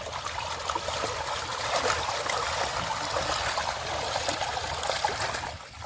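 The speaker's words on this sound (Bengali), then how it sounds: "ওই যে শঙ্কর ভাই খাবারটাকে ধুয়ে নিচ্ছে" Salted fish used as feed in a crab enclosure is washed by hand in water, making a steady, close trickling and splashing that runs continuously with small surges and no talking.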